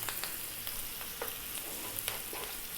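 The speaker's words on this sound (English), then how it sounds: "Then going to drop in that chopped garlic" Chopped garlic dropped into a hot pan over medium-high heat, a quiet, steady crackling sizzle with a few small ticks and pops, no talking.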